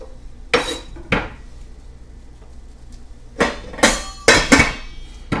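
Vegetables and other ingredients for a mackerel casserole tossed into a metal pan, giving several sharp clattering impacts, two early and a cluster of three later, with quieter rattling between and no talk.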